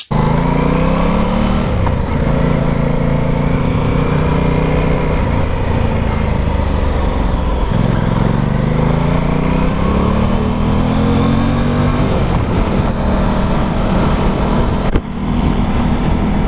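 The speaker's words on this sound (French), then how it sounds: "c'est un bicylindre qui est donc bridable A2, qui fait 95 chevaux en full" An Aprilia Tuono 660 twin-cylinder motorcycle engine revs loud and close while riding, its pitch climbing through the gears and dropping at each shift, with steady drone and no talking.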